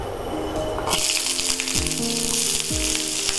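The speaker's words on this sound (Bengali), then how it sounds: "আমরা পেঁয়াজটা প্রথমে ভেজে নেব" Onions hit hot oil for Afghani chicken, bursting into a loud, close, continuous sizzle after a brief quieter start, with a few metallic clinks and background noise underneath, no talk.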